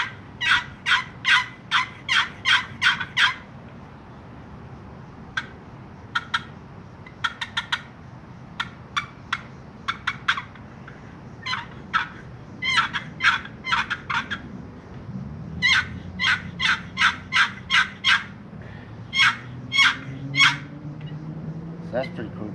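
A handheld turkey call, used with chalk, imitates gobbling turkeys in repeated rapid clusters of sharp yelps spread across the span, with a faint voice underneath at times.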